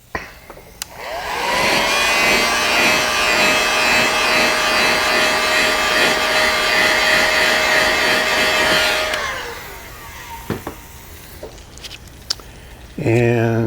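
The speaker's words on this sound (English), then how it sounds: "I'm going to heat set it" A heat gun heat-sets paint on a bluegill-pattern fishing lure, a loud close whooshing blower roar that holds steady for about seven seconds and then winds down, followed by light handling clicks.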